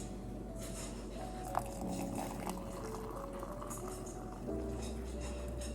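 Water boils in a big pot on a home stove, giving a steady low bubbling hiss under a faint background hum.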